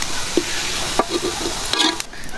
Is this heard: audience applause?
no